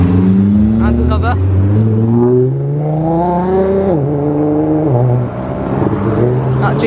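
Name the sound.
Nissan GTR car accelerating away from a meet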